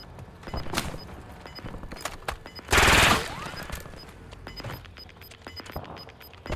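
Gunfire in the battle royale video game Warzone on PC, rapid automatic bursts and single shots at varying distances, with one loud close burst in the middle, heard without talk.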